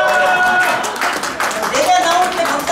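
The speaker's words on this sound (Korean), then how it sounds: "함성과 박수!" Cheering and clapping from a fan-meeting audience at a singer's event, a loud continuous crowd roar with claps and whistles throughout.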